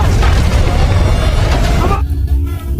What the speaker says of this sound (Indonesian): Bernie lalu segera naik ke atas menyusul ke helikopter tepat saat bom mulai meledak